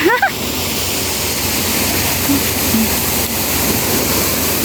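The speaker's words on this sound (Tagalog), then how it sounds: "Malakas na yung tubig." Strong, loud rushing water fills the whole stretch as a steady broadband roar with no breaks, close and constant; a brief burst of voice is heard at the very start.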